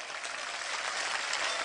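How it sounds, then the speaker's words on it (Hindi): A crowd at a Bageshwar Dham religious gathering claps with both hands, a dense, steady wash of applause that holds evenly throughout with no voices on top. "दोनों हाथों से ताली बजाओ सब।"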